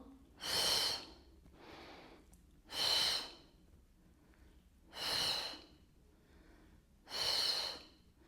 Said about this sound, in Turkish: Nefes al. Ver. Al. Ver.